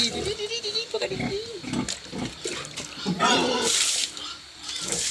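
A pig grunts and squeals repeatedly at close range on a small farm, with heavy, uneven snorts and a sharp high squeal near the end; other animal noises and a voice mix in.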